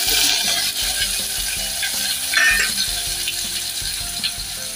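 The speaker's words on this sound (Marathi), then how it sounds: "मी आता टोमॅटो टाकून देतो" Tomatoes dropped into a hot pan of tempered garlic and asafoetida for drumstick dal, giving a steady sizzle and frying crackle with scraping, clattering stirring sounds throughout.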